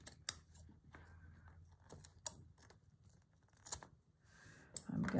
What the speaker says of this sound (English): I'm going to cut down there a little bit.